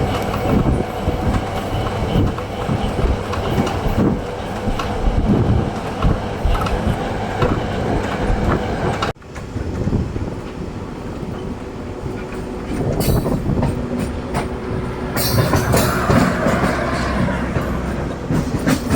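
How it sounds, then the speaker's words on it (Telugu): Simhadri Express (Visakhapatnam–Guntur, 17240) runs through a small halt station without stopping, a loud, steady rumble of wheels and carriage clatter close by, with a brief dip near the middle before the roar resumes. "మన ట్రైన్ వచ్చేసండి రాలింగి హాల్ట్ రైల్వే స్టేషన్ అయితే స్కిప్ చేస్తుందండి."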